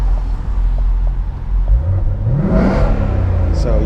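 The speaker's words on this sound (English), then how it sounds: "Here, I'll give it a little rev as well," A 2019 Mustang GT with a Corsa Xtreme cat-back exhaust in quiet mode gives a short, muted rev, a low steady engine drone swelling briefly mid-clip before settling, close by.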